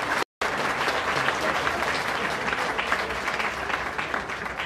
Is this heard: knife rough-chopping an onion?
no